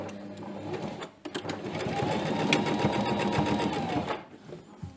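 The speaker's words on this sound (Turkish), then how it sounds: "Şimdi şöyle A kısmını dikiyorum" A sewing machine stitches along a trouser zipper, running in one steady, continuous mechanical whir close by, with brief pauses at the start and end.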